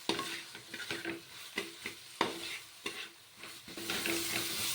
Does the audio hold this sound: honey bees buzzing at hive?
no